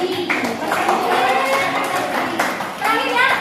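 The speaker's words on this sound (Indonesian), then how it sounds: "Yuk, tepuk tangan untuk kelompok Kurdi." An audience applauding a group at a training event, a short burst of clapping mixed with overlapping chatter and children's voices nearby.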